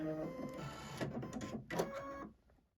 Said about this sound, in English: I'm going to finish embroidering out this design